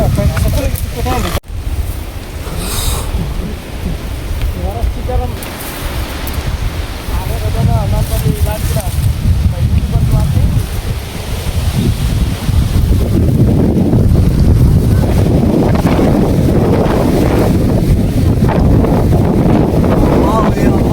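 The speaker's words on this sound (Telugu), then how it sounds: "గాలి అయితే చాలా ఎక్కువ ఉంది." Loud gusting wind on a hilltop roars and buffets the microphone, growing stronger and rougher over time, while people talk briefly beneath it.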